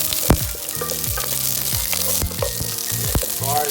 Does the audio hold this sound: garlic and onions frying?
yes